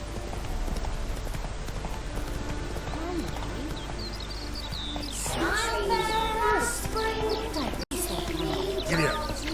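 A horse gallops in The Witcher 3 with a steady hoof clatter throughout, joined midway by louder game sounds that resemble voices or creature calls layered over the hoofbeats.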